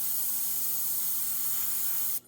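Airbrush spraying paint onto a stormy-sky lightning artwork, a steady close airy hiss running unbroken for about two seconds before cutting off.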